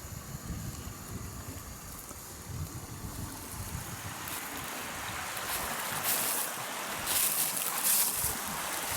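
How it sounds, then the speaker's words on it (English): Water of a forest stream on the Black Forest Trail rushes steadily as broadband noise, close and fairly loud, with no talk over it. "Nice stream."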